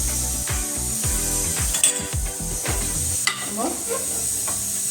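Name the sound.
stirring mutton curry frying in a pan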